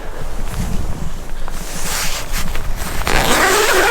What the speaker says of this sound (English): Really nice zipper here. Okay, nice tape zipper. Opens well.